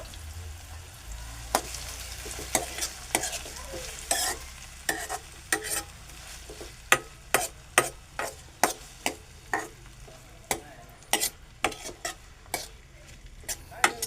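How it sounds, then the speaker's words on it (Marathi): Onion and tomato for farsan bhaji being sautéed in oil in a pan, a steady sizzle broken by repeated sharp scrapes and clinks of a spoon against the metal, close up, with brief quiet talk. "हे मी आता परतून घेतो."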